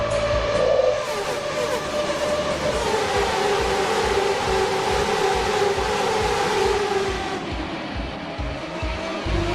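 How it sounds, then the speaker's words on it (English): IndyCar race cars in Assetto Corsa on a racing track roar loudly and continuously, engine pitch sweeping as cars pass close by, with no talk over the sustained engine noise. "Gentlemen, start your engines!"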